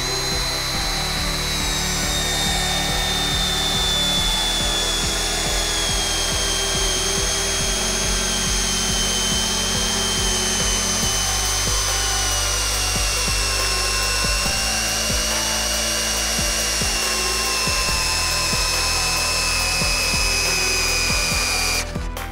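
Flex 12V cordless screwdriver with interchangeable attachment driving a 9x400 screw into wood: a loud continuous motor whine that strains and slowly drops in pitch as the screw bites deeper, steady throughout with no talking.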